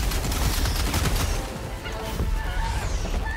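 Heavy, dense gunfire in Helldivers battles against a Bile Titan and other bugs, a continuous loud barrage of shots and explosions that fills the whole moment with chaotic combat noise.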